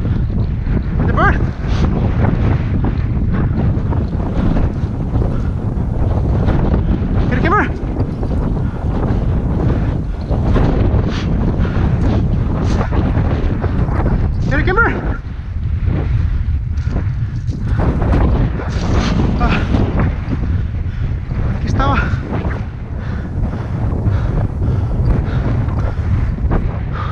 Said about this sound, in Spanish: Viento.